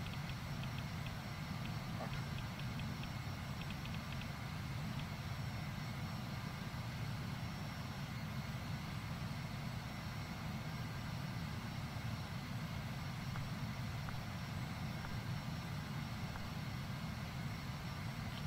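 Embraer Phenom 300 jet rolling for takeoff in the FSX flight simulator, a steady dense engine roar and rumble that holds constant and loud throughout, without talk.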